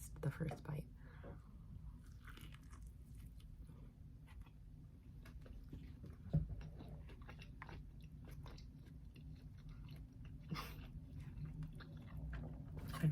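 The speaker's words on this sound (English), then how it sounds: "we're gonna eat first, the first bite." Close-miked bites and chewing of tacos, soft wet crunches and mouth sounds repeating quietly, with a faint voice murmuring at moments.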